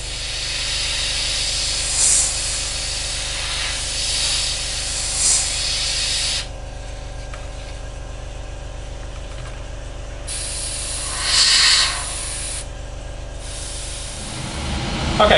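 Airbrush misting thinned paint, a little more than half thinner, onto a 1/48 Academy Raptor model kit; a steady hiss in long bursts with brief pauses between passes, close and fairly loud.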